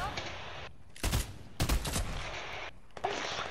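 Bursts of Fortnite gunfire crack out in loud, rapid volleys, with a couple of dense clusters of shots and scattered single reports over steady game ambience.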